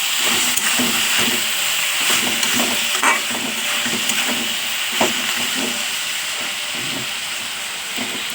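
Kharkol paste frying in a pan and being stirred, a steady close hiss and sizzle broken by repeated scraping strokes of a spatula, with no voices.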